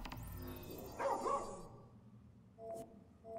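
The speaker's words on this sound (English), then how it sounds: "Follow the barking." In Final Fantasy XV gameplay, a dog barks and yips amid game ambience, with a cluster of barks followed by a couple of short, fainter yaps.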